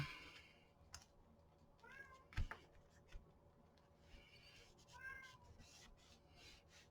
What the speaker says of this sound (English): You hear the cats?